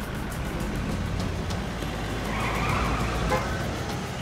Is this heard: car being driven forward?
yes